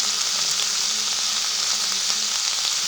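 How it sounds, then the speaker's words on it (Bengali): Broccoli fries in a pan with a little black pepper, a steady, close hiss of sizzling oil that runs unbroken with no talk over it. "ভেজে রাখা ব্রোকলিগুলো দিয়ে দেবো এবার দিয়ে দেবো সামান্য পরিমাণে গোলমরিচ"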